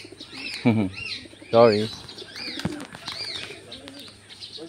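Pigeons coo in two low, throaty bursts close by, with wings flapping and scattered chirps at an outdoor spot in Bohol, Philippines, while a person speaks briefly.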